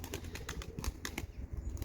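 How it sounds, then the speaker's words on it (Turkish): A white pigeon flaps its wings in quick, rhythmic beats while descending toward a rooftop, faint and nearby, with no voices. "Kuş aşağıdan pırpır yapıyor."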